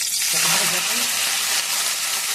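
Oil heats in a pan on a home stove, making a steady broadband hiss that fills the whole short stretch, close and fairly loud.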